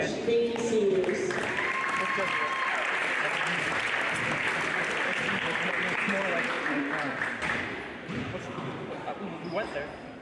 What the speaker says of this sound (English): Let's give a final round of applause to Gunnar and Kurosh